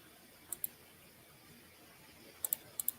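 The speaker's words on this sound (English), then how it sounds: "Just a bunch of clicking and two guys just being quiet" Computer mouse clicking while presentation slides are pulled up on a screen, a few sharp isolated clicks in two small clusters over near silence in a quiet room.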